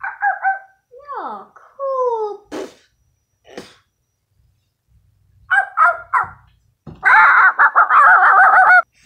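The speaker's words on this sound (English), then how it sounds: "It's a dog." A cartoon dog from The Cuphead Show gives a run of voiced barks and yelps, a voice actor performing the dog sounds in short bursts between brief vocal noises and pauses, close and loud.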